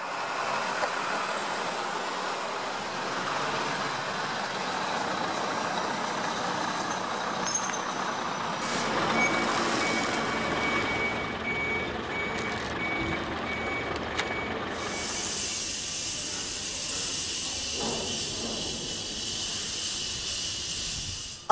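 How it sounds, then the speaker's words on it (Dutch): Heavy 44-ton trucks maneuver onto a steel lock bridge for a load test, with continuous engine rumble, hissing air brakes and a steady high reversing beep in the later part, loud and sustained. "Twintig vrachtwagens van elk 44 ton worden evenredig over de brug geplaatst."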